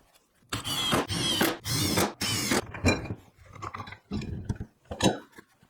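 A power drill drives 2.5-inch outdoor screws into treated lumber for planter box legs: several loud, close whirring bursts of about half a second each, then shorter, quieter spurts with small clatters between them.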